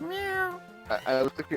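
Person imitating a cat with a long, nasal, falling meow, followed by brief spoken words from the same voice.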